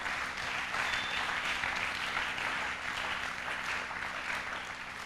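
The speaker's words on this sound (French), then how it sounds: "Est-ce que quelqu'un peut acclamer le Seigneur?" A church congregation applauds to acclaim the Lord, a steady, even wash of many hands clapping that holds for several seconds at moderate distance, with no voices standing out.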